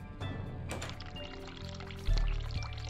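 Hot water runs from a tap into a sink in the horror adventure game The Cat Lady, a steady pouring splash with a louder gush toward the end, no talking.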